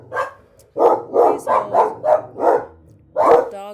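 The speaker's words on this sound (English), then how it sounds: "my dogs are going crazy" Several dogs bark in a rapid burst of about seven loud, close barks, with a brief spoken word at the start.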